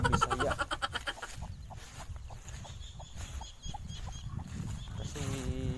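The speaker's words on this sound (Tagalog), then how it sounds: "Nag-aalaga rin po kami ng mga ano, manok." Native Bisaya chickens are kept on a rural Philippine farm. Soft, scattered clucks come through at moderate distance, with a voice heard at the start and end.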